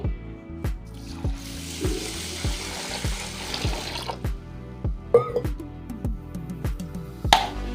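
Tap water runs into a sink in a home kitchen where rice is being soaked, a steady splashing flow broken by a series of regular knocks and clinks of vessels.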